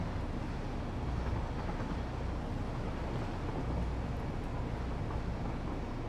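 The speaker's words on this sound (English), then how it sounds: "Let's see what the autosave does to the train running. It's loud." A train runs in the Satisfactory video game with a steady, dense rumble and roar, constant and loud throughout with no breaks.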